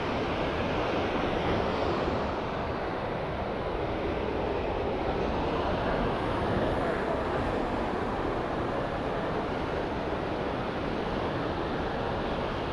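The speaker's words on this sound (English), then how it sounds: "a lot of water being channeled through." Huka Falls, a torrent of water forced through a narrow rock channel near Taupo, New Zealand, roars as a dense, constant rush that holds steady throughout.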